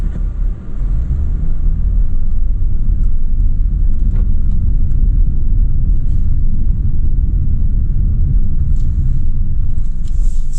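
A 2017 Dodge Challenger SXT coupe with a 3.6L V6 and eight-speed automatic runs steadily, a loud, continuous low rumble close by with no break across the whole stretch.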